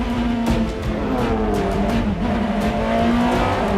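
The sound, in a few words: 2002 BMW M3 E46 race car driving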